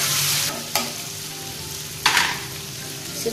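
Turmeric, coriander and red chilli powder stirred in a hot pan for amla pickle, a continuous soft hiss with two or three brief louder scraping strokes of the spoon, close and without talk.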